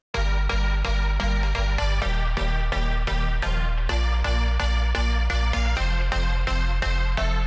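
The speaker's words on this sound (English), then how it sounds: "I've prepared this little chord loop here" A chord loop built in Ableton Live plays alone, a steady repeating pattern of rich sustained chords over a punchy low kick-like pulse, loud and upfront with no voices.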